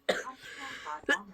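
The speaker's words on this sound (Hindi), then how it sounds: "खांसी" A single short, harsh cough from a man with a bad sore throat rings out close by, followed by a brief pause and a second quick cough burst.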